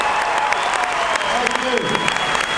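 A crowd applauds loudly with dense, continuous clapping and a few cheers at a political rally in Missoula, Montana, while a voice speaks over the noise.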